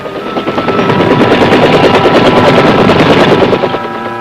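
Loud bursts of rapid machine gun fire rattle continuously for several seconds, a dense rhythmic stutter close by, from ground fire in the Vietnam War, 1967.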